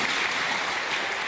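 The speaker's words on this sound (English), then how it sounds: "Listen to the applause." A badminton crowd applauds at the 2012 Yonex Australian Open during Chen Jin versus Simon Santoso. A brief, dense wash of clapping from many hands fills the hall, steady and moderately loud.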